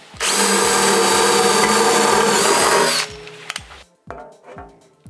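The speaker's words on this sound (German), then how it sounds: "Dann bohren wir uns ein Loch im entsprechenden Durchmesser" A power drill bores a 9 mm hole for a blind rivet nut, whining loud and steady for about three seconds before cutting off, followed by a few light clicks and handling knocks.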